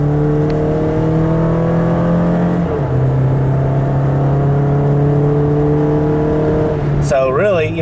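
A 2023 Toyota Tacoma 4WD SR Access Cab's 2.7L four-cylinder engine drones steadily at raised revs, dipping in pitch partway through and then surging sharply near the end, heard close and loud.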